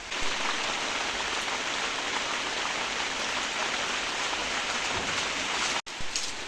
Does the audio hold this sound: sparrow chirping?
no